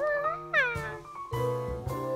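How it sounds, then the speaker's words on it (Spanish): A cat in a children's cartoon gives several short, clear meows in quick succession, close and moderately loud, with brief quiet gaps between calls. "Por favor, mantén a ese gato alejado."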